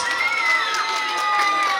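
Wedding crowd applauding and cheering loudly and steadily to invite the couple onto the dance floor, with a music-like tone running through the noise.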